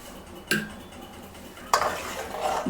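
Milk is stirred into soft, mushy cooked carrot in a pan for carrot khoa jamun, with two sharp spoon-against-pan scrapes and a quiet wet stirring texture between them, close and clear with no talking.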